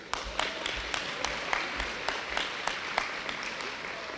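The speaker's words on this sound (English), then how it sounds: "Let's give Ben a round of applause" Audience at a senior recognition dinner applauding, a sustained wash of many hands clapping with a few crisp, distinct claps standing out at a steady pace.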